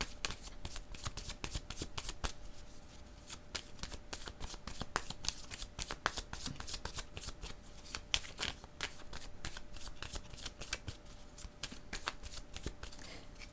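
A deck of playing cards being shuffled over and over, steady rapid riffling clicks close up and fairly quiet, with no talking.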